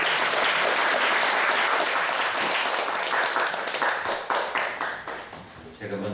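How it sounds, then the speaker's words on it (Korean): Dense applause from a sizable church congregation fills the room, gradually tapering into scattered claps, with a voice starting up near the end. "다시 한번 이제 박수."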